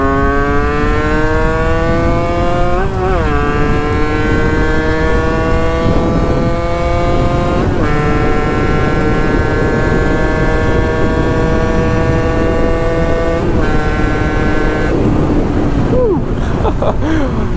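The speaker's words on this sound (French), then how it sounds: "On va faire une petite accélération sur la route." A 50cc kit motorcycle accelerates hard on the road, its loud, close engine whining higher and higher, dropping briefly at each of several gear shifts before climbing again.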